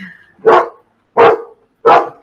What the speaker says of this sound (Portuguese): Desculpa aí os latidos.